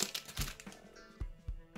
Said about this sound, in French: Je vais juste donner un petit coup de ciseau à chacun des petits sachets